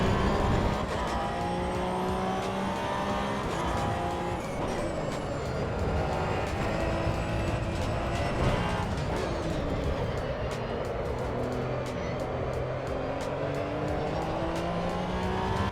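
A race car laps a track in the racing game Assetto Corsa Evo, its engine droning loudly and steadily throughout, with rising and falling revs through gear changes and occasional tire noise, no talking.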